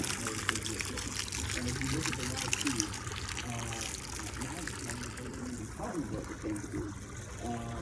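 Water trickles and pours steadily into a backyard Hot Wheels sandbox, a continuous liquid dribble running beneath voices talking nearby.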